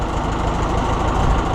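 A tractor engine idles near a shed, giving a loud, steady, close-up rumble that keeps an even rhythmic pulse throughout, with no voices.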